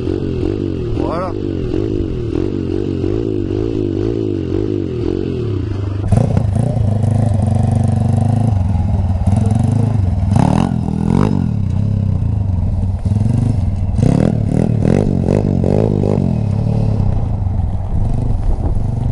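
A dirt bike engine runs loud and close during a wheelie, surging in several throttle revs over a steady rumble.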